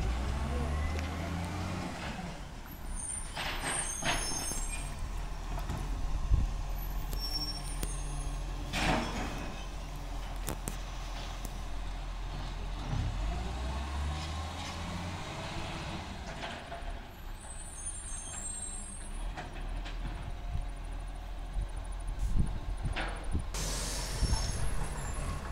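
A front-loader garbage truck grabs and empties recycling bins at a work site: a rumbling engine with clanks, hydraulic whines and air-brake hisses, fairly distant, while people talk nearby.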